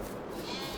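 A single short, faint sheep bleat sounds in the Farming Simulator 22 video game.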